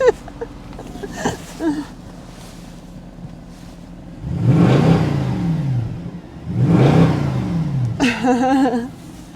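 A V8 engine, from a Mercedes C63 or a Lexus 430, is revved twice in quick succession, each rev rising to a loud, close roar and then falling away, with brief talk before and after.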